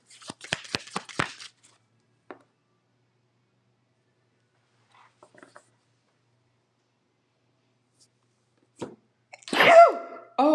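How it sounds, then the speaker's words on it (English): A single loud, sharp sneeze bursts out near the end, following a long quiet stretch and a quick patter of soft clicks and taps at the start. "it took so long for that sneeze to come out"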